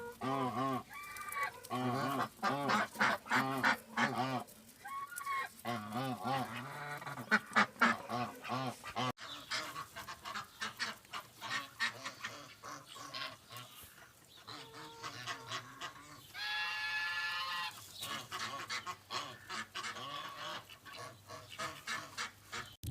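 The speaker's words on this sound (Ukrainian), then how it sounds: "Ось наша качечка ходить по сусідських городах" Repeated honking quacks and calls from ducks, fairly close, coming in irregular bursts over a long stretch with faint background noise, in wintry weather in western Ukraine.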